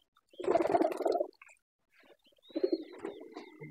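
Soft cooing from a dove kept among pigeons, two short bursts of low, throaty calls close to the microphone with a brief pause between.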